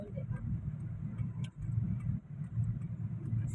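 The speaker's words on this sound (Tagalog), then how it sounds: "Ang daming sasakyan." Dense car traffic on a busy Manila street on a Sunday, a steady low engine rumble with brief dips as vehicles pass close by, muffled like from inside a car, and people talking nearby.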